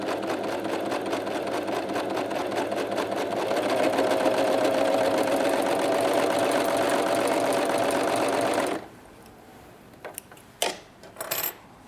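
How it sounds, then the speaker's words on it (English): A Pfaff Coverlock 3.0 overlocker trims and finishes a fabric edge with a fast, steady mechanical whir that runs close and loud for about nine seconds. It then stops, and a few faint handling clicks follow. "place it underneath your foot and start overlocking"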